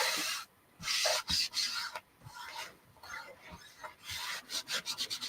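A chalk transfer is burnished onto an 18-inch wood round with firm, close rubbing strokes, scratchy and rasping, arriving in bursts with short pauses and a quick run of strokes near the end.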